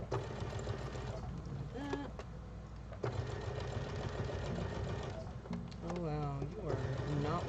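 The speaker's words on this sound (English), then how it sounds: "My poor sewing machine." A home sewing machine stitches a sturdy fabric face mask, its fast mechanical whir running steadily and fairly close, while a person talks over it and the stitching pauses and restarts in short bursts.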